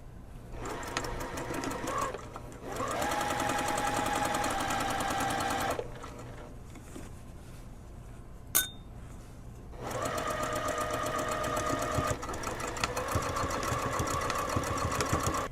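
A sewing machine stitching closed a puffy fabric sleeve, running in two long bursts of rapid mechanical whirring with a quiet pause and a sharp click between them, close and clear.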